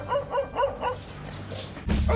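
A dog barks in a quick run of four or five sharp, evenly spaced yips at a runner, then falls quiet before a louder rustling thump at the end; fairly close and with no talking.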